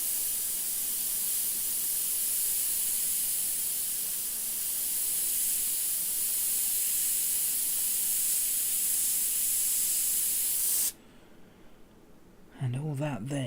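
An airbrush sprays paint in a loud, steady hiss that runs unbroken for about eleven seconds, then cuts off abruptly, leaving quiet room tone followed by a brief burst of speech.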